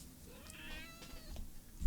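A pet cat meows in a few drawn-out, complaining calls, close by and fairly quiet, against a low background rumble with no talk.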